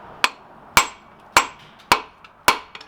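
Hammer forging a short taper on a millpick: five sharp ringing metallic strikes at a steady, unhurried rhythm, close and loud, each blow decaying quickly, with a faint light tap after the last.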